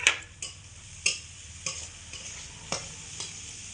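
Chopped beans are stirred in a pan while Maggi is cooked: a soft sizzle runs throughout, with a handful of sharp spatula scrapes and taps spaced about half a second to a second apart, close and without talk.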